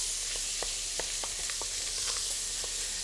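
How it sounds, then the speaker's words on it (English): Bacon and two kinds of onion fry in a pot with a steady bright sizzle, dotted with small pops and crackles, close and fairly loud, without any talk. "we're going to start frying those down"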